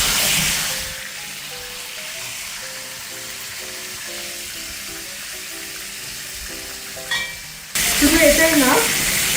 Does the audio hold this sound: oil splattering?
yes